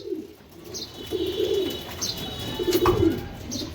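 Racing pigeons at a pigeon farm coo in soft, low throaty phrases, several rolling calls repeating close by with faint chirps and a bit of wing movement in the background.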